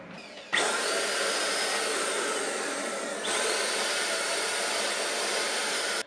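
HomeRight Super Finish Max paint sprayer running while spraying, a loud, steady broadband hiss that starts abruptly, holds nearly unchanged for several seconds with a slight jump midway, then cuts off.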